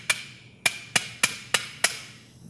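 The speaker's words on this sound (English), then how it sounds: "And a hammer." A surgical hammer strikes an instrument during a prone transpsoas spine procedure, giving six sharp, evenly spaced taps, close and crisp, in a quiet operating room.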